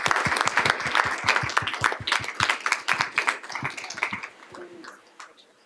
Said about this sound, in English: How about a round of applause for these amazing people?